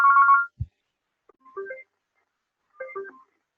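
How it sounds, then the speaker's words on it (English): A softphone on a work-from-home call-centre setup rings for an incoming call: a short electronic tone burst, then two separate warbling ring chimes spaced about a second apart, clear and alone with no talking. "So it rings on my soft phone"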